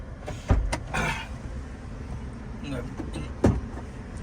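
A few short mechanical whirs of a Suzuki WagonR VXI's power windows moving, with a couple of thumps and a voice talking in the background.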